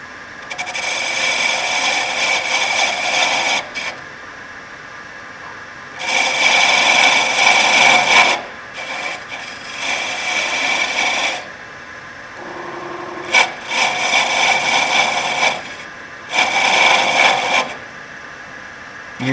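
A wood lathe cuts grooves into a spinning wooden honey dipper: rough, scraping bursts of tool-on-wood cutting, several seconds each, separated by quieter pauses while the lathe keeps turning.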